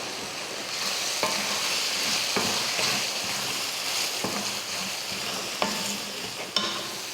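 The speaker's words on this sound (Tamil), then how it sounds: "4 முட்டையை அதில் சேர்த்துறோம். சேர்த்துட்டு அதையும் கலந்து விட்ருங்க." Four eggs scrambling and frying in a hot pan for roadside-style egg rice, with a steady sizzle broken by sharp scrapes and knocks of a spatula stirring, close and fairly loud with no talking.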